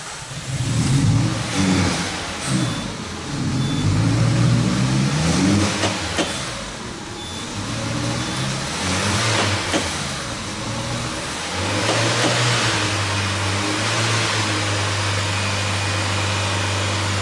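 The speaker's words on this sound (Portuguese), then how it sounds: "vamos fazer o carro funcionar" A Peugeot car engine with a fault cranks and sputters before catching, then revs up and down unevenly several times and settles into a rough idle, close by.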